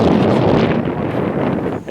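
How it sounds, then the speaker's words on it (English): Strong wind buffets an outdoor microphone during a tornado siren test in Dubois, Indiana, a steady loud roaring rumble that fills the whole clip with a slight dip near the end. "if you can hear me over the wind"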